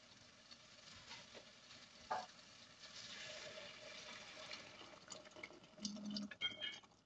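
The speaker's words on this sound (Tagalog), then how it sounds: "Lagyan tayo ng tubig." Water poured into a pot of chicken salona during cooking, a soft steady splash and trickle lasting several seconds, followed by a few light clinks of kitchenware near the end.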